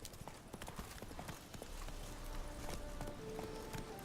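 Horse hooves clip-clop steadily in The Witcher 3, a rider urging the mount along over a low game ambience, with a brief spoken line near the start.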